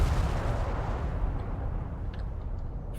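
Fuel bombs exploding in the war game World in Conflict: a heavy, rumbling barrage of deep blasts rolling on steadily, with faint sharper pops in the distance.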